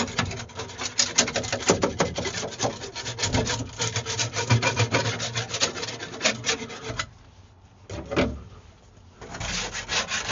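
Loose material is scraped and rubbed off a boat console during steering wheel removal and prep, giving a close, gritty rasping of rapid strokes that pauses briefly near the end before resuming.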